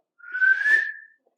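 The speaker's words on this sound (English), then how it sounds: "Someone whistled." A single clear whistle, close and fairly loud, rises slightly and holds for about a second before fading, with nothing else around it.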